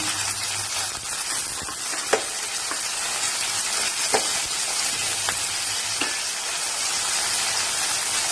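Tomatoes sauté in a hot pan for a capsicum chickpea curry, a steady loud sizzle and hiss with occasional light clicks of a spatula against the pan.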